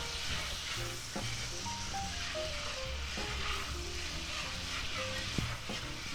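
Chuck steak marinade with spices and garlic sizzles steadily in a cast iron skillet, a continuous frying hiss with soft scraping and clinks as it is stirred around, close and alone without talk.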